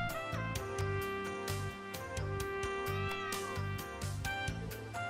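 A cat meows repeatedly in Trails of Cold Steel 3, several short clear mews over a steady game music bed with rhythmic low tones.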